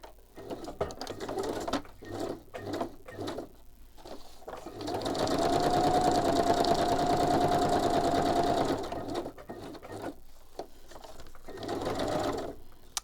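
A sewing machine stitches fabric in several short bursts of rapid mechanical whirring, followed by one long steady run in the middle and a final shorter burst, all close and clear.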